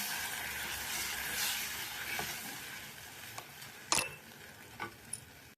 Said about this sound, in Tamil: கார்ன்ஃப்ளவர் மாவு அப்படியே இதில் கொஞ்சம் கொஞ்சமாக போட்டு மிக்ஸ் பண்ணிடுவோம்